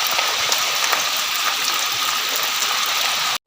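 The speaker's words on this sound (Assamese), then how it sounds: "এতিয়া বৰষুণ দিছে" Steady rain falls in a broad, unbroken hiss with scattered drop impacts, loud and continuous until a brief cut near the end.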